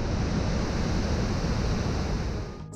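Steady, powerful roar of a waterfall's tumultuous currents, a dense continuous rush of crashing water heard close and loud, easing slightly at the very end.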